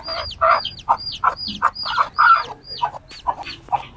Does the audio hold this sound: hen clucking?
yes